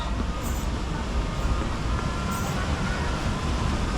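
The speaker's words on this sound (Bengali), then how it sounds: "এই এখান থেকে জল পড়ছে দেখো" Water falling over black rocks makes a steady, dense rushing roar from start to finish, with no clear breaks in the sound.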